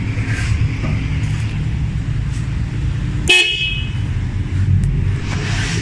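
A car horn gives one short honk over a steady engine rumble, loud and close, with a second fainter beep shortly after, sounded while testing the horn relay.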